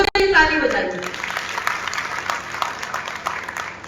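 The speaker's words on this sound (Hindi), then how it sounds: "एक बार आप सभी मिलकर बच्चों के लिए ताली बजाइए।" An audience gives children a round of applause, a dense burst of clapping that follows a brief spoken line and fades gradually over a few seconds.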